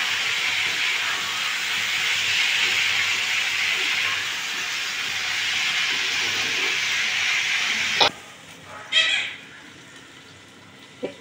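Potatoes hit hot frying spice masala for Bengali aloo dum, a loud steady sizzle that dies down abruptly, leaving softer crackles and stirring.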